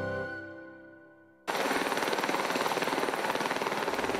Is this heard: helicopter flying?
yes